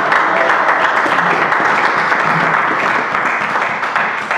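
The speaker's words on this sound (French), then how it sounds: "Est-ce que tu peux acclamer la parole de Dieu?" A church congregation applauds together after a sermon reading, a dense, steady wash of clapping that fills the room, loud and close, with no voices rising above it.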